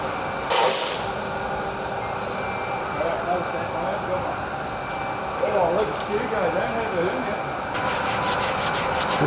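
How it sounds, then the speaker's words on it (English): Old acrylic paint is sanded off a restoration project, a rough rubbing scrape pulsing in short strokes close by, with voices chatting and a burst of rapid ticking near the end. "Is it sanding like acrylics on there"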